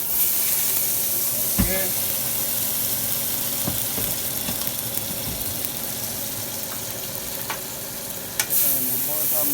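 Butter melting in a hot pan while cooking Jamaican steamed red snapper and jerk pork, a steady close sizzle and hiss with occasional stirring clinks, and a brief spoken word.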